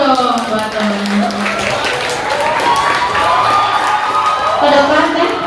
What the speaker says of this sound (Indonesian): Tepuk tangan dong buat temen.